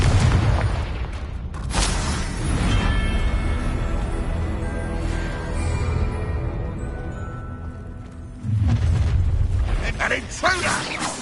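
Spell explosions from Confringo casts in Hogwarts Legacy combat: booming bursts near the start and again near the end, with clanking mechanical game noise between them. A voice is shouting over the action.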